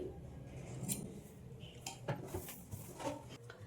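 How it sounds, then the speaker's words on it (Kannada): Scissors trim blouse lining cloth up close, with quiet, scattered snips and soft fabric rustles over a low room hum. "ಈ ರೀತಿ ಸ್ವಲ್ಪ ಕ್ಲಾತನ್ನು ಟ್ರಿಮ್ ಮಾಡ್ಕೊಳ್ಳಿ"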